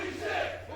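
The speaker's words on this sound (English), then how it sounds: "This crowd is going crazy right now" A wrestling crowd at a cosplay match yells and cheers wildly in one brief, dense burst of massed voices over a steady low hum.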